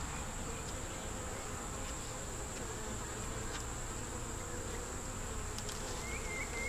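Honey bees buzz around hive frames being put back together, a dense continuous drone close by, with a few brief louder passes as individual bees fly near.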